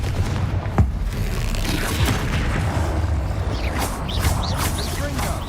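Confringo spell explosions in the Hogwarts Legacy game, loud booming blasts and crackling bursts over game effects and music, several impacts in quick succession at close range.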